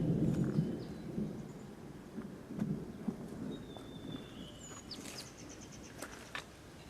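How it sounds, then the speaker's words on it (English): Low rumbling thunder rolls in the distance before rain in Nepal, beneath scattered bird chirps and whistles, with a faint wind hiss throughout. "With the thunder."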